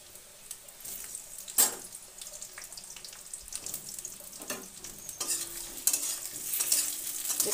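Boiled potato pieces fry with softened onions in a pan, a faint low sizzle with scattered stirring scrapes and clinks, no voices.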